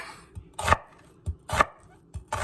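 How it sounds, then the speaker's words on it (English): A knife chops through an onion on a cutting board, several crisp separate strikes with short pauses between them, close and fairly quiet with no talking. "I always use my fingers to hold the onion there and there. So when I cut, it doesn't go anywhere."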